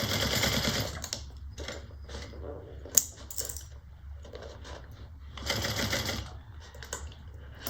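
Domestic sewing machine fitted with a piping foot stitches along fabric piping while sewing a bag, running in steady mechanical bursts with short pauses between them and one sharp click partway through.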